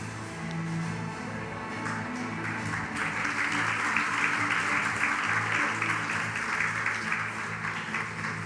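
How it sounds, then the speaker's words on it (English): Audience applause at a university excellence awards ceremony, a steady wash of clapping from a large crowd that swells after a few seconds and holds loud and sustained to the end. "One last round of applause"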